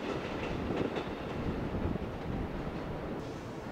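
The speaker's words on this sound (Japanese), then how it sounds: "11時2分、貨物列車やってきました。" A freight train hauled by an EF64 electric locomotive rolls into a Japanese freight terminal station, a steady broad rumble of wheels and rail clatter filling the scene at close range, with no voices.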